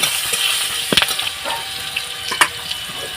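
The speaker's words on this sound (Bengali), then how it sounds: "কাঁচা লঙ্কা দুটো দিয়ে দিলাম তেজপাতা দুটো দিয়ে দিলাম পাঁচ ফোড়ন হাফ চামচ দিয়ে দিলাম দিয়ে এটা একটু ভেজে নেব" Green chillies, bay leaves and half a spoon of panch phoron frying in hot oil in a pan for a bitter gourd dish, giving a steady close sizzle with a few brief louder crackles and pops.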